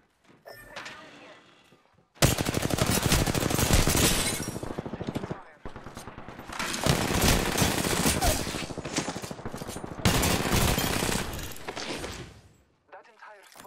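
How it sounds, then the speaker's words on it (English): Heavy automatic gunfire in Apex Legends, loud sustained bursts broken by short pauses, with a player's voice speaking over the shooting. "Stop, I'm getting shot at."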